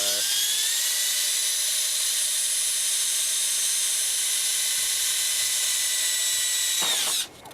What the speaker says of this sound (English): then we'll drill a smaller pilot hole